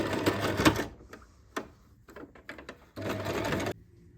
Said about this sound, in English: we top stitch the top piece all the way to the sharp corners